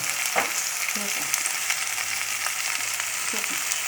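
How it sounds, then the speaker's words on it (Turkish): Pumpkin and potato pieces sizzle steadily in hot oil in a pan, with occasional soft scraping and clinks as they are stirred after salting, a continuous close crackle with no voices. "Tuzu attıktan sonra bir dönem daha karıştırıyoruz"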